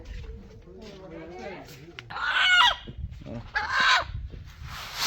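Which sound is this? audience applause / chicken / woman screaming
chicken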